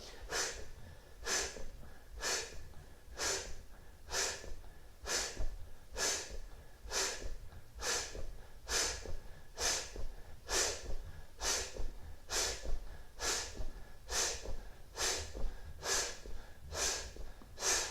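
Rapid rhythmic forceful breaths during a yoga exercise, a voice imitating the pumping of a piston, about eighteen evenly spaced sharp exhalations through the mouth, close and steady, with no talking.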